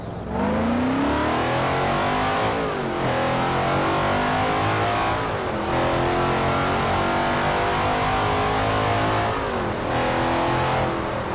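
A Toyota in Forza Horizon 4 accelerates hard, its engine rising in pitch through each gear and dropping briefly at three upshifts, loud and steady throughout.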